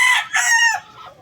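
A gray-line gamecock, a fighting rooster, crows once up close, a loud, bright two-part call that trails off into a fading tail.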